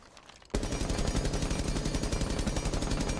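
A low-recoil gun in Rainbow Six Siege bursting into sustained automatic fire after a brief quiet moment, a rapid, even rattle of shots that is loud and close with no talking.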